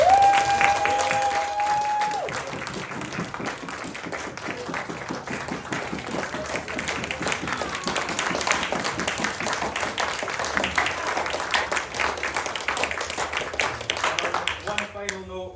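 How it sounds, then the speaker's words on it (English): Sustained audience applause at a 25th anniversary storytelling performance, a dense wash of many hands clapping that carries on for a long stretch at steady loudness, with a brief whistle-like tone near the start. "can I ask for one last huge round of applause?"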